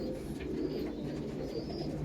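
Pigeons coo steadily in a loft housing Murshidabad flying pigeons, a continuous, fairly close burble of soft low calls with no talk over it.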